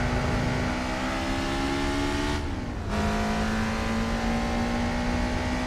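A car engine revs hard in Gran Turismo 4, a loud sustained tone that climbs, drops briefly at a gear change, then settles into a steady high drone.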